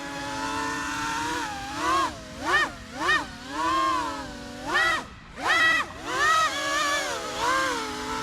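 A homemade drone with credit-card propellers hovers loudly, its motors whining in a harsh buzzing drone that rises and falls in repeated surges as the throttle shifts.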